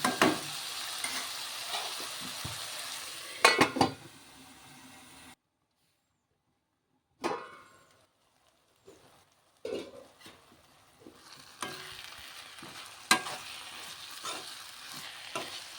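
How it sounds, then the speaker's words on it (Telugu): Spring onion curry being stirred in a pan over low heat, a soft sizzle with scraping stirs that cuts out into silence midway, then returns with scattered stirring clatter and frying, no talk. "చూడండి ఇలా కలుపుకుంటూ ఉంటే సిమ్లో పెట్టుకొని మాడకుండా ఉంటుంది."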